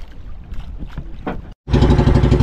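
A boat's engine starts up after a brief pause and runs loud and steady as the boat heads back toward an island, following a stretch of quieter, broken engine and water noise.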